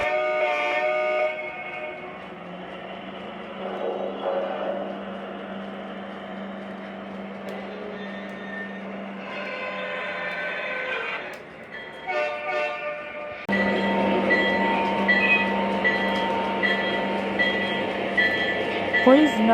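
Two Lionel Legacy model train locomotives running together in a lash-up, a quiet motor hum and rolling rattle with short horn blasts, under a voice that drops out midway before the running grows louder.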